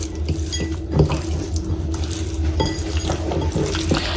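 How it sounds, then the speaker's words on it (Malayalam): Chicken pieces being mixed with chili powder, turmeric and salt in a bowl, close wet squelching and stirring with light clinks of utensil against the dish, no voices. "ഇനി നമുക്ക് നല്ലപോലെ ഒന്ന് മിക്സ് ചെയ്ത് കൊടുക്കാം."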